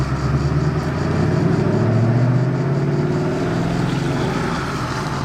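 Sports car engine, among a convoy of Bugatti Veyron, Chiron and Koenigsegg hypercars, droning steadily from a distance with a low rumbling tone that swells slightly in the middle, loud and continuous with no talking.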